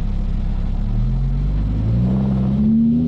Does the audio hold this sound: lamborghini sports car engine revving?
yes